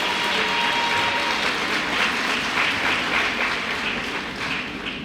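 Graduates at a university diploma ceremony in Gabon applaud in a dense, steady wash of clapping that fills the hall, tapering slightly toward the end.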